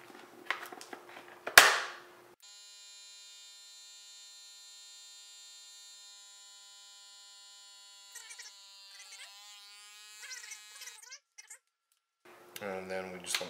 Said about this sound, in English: So next, we need to bring this over to the vacuum sealer and seal it up.